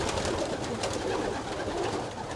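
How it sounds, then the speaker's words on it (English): Young pigeons flap their wings in a soft, continuous fluttering, with cooing pigeon sounds mixed in at moderate distance and no talking. "You can hear the wings flapping."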